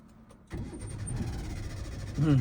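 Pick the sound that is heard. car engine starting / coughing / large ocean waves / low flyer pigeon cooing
car engine starting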